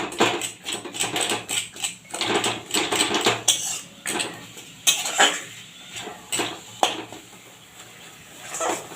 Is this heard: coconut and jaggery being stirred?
yes